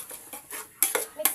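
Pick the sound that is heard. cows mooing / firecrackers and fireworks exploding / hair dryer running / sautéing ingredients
sautéing ingredients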